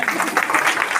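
Crowd clapping at a women's wing political gathering held at a BJP office in Kathua, a steady continuous patter of many hands filling the room with slight swells in intensity.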